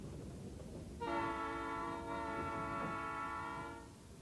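A train passes with its horn sounding: a loud, sustained, multi-tone blast starts after a moment of rumble, holds for nearly three seconds, then cuts off, leaving rail noise.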